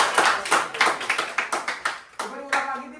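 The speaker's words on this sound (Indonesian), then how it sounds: "tim tadi terlalu berisik tepuk tangan" A group of people clapping together in a rhythmic, fairly close burst of about ten sharp claps before it breaks into looser clapping with a voice briefly heard.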